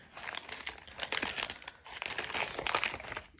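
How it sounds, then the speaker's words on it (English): Paper crinkles and rustles as an envelope is pulled out of a pack of handmade greeting cards, two close bursts of crisp crackling with a short pause between. "So I can just take the envelope out"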